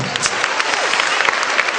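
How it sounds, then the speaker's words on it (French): A studio audience claps loudly and steadily through the whole moment, a dense close wash of applause with no one speaking over it. "Il faut vous applaudir très fort, s'il vous plaît."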